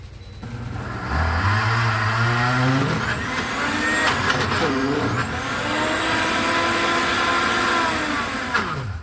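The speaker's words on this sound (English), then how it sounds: "we're going to blend it for just a couple minutes, or at least a minute probably. Put it on medium." A blender set to medium whirs through thick herbed cream cheese, its motor pitch rising after a moment and then holding a steady, loud whine with small wavering strains for several seconds.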